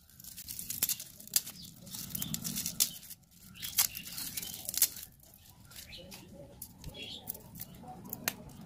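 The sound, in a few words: peeling garlic skins by hand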